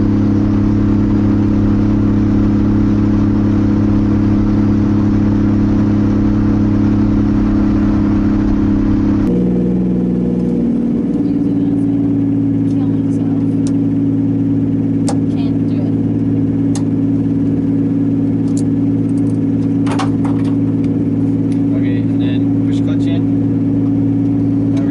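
Engine of a 2JZ-swapped Nissan 240SX drift car drones loud and steady from inside the cabin, its tone dropping and shifting around ten seconds before settling into a lower sustained hum with faint clicks and rattles.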